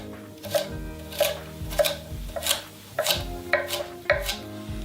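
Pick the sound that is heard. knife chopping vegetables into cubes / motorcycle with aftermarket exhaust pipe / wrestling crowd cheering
knife chopping vegetables into cubes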